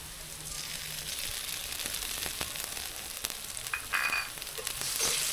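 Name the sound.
cumin and coriander paste frying in a pan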